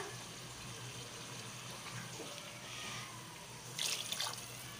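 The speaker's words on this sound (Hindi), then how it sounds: "कलेजी को गलाने के लिए हमने 2 से 3 कप पानी डाला" Two to three cups of water pour steadily into a cooking pot of liver and kidney, with a soft splashing trickle that turns brighter and splashier near the end.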